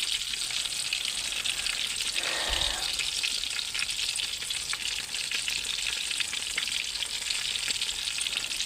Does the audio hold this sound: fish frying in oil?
yes